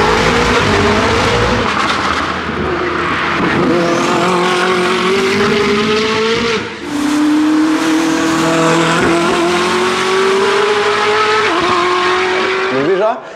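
A Koenigsegg Jesko hypercar engine revs hard and loud, pitch climbing through gears with a brief dip at a shift, close and dominant throughout.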